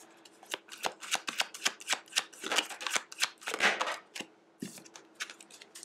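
Cards from an archetypes oracle deck are shuffled in rapid bursts of crisp riffling and slapping, close and fairly loud, with short pauses between runs and no talking.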